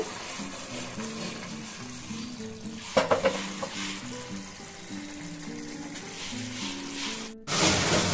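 Small fish frying in mustard oil while being stirred, a continuous close sizzle with a burst of spatula clatter around the middle and a louder surge of spitting oil at the end, no talk.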